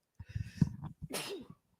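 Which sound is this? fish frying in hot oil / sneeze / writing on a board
sneeze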